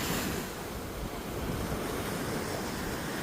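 Pacific Ocean surf rolls in at Newport Beach at night, a steady, dense wash of breaking waves mixed with wind buffeting the microphone, with no voices.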